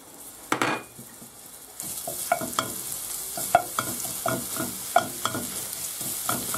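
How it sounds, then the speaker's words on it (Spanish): Garlic hits hot oil in a pan and starts sautéing with a sudden burst of sizzling, followed by a steady crackle and repeated sharp clinks and scrapes of a utensil stirring against the pan. "Lo primero que tenemos que hacer una vez que se calienta es echar el ajo y rehogarlo."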